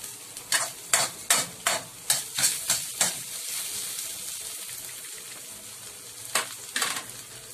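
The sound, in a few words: stirring veggies and egg in a pan with salt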